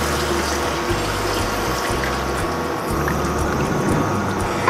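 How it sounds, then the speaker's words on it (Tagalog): Water poured from a container into a cooking pan for a yellow curry stir-fry with long beans and tofu, a steady close gush and trickle running through the whole stretch with no talk. "Ngayon, lalagyan lang natin ng water."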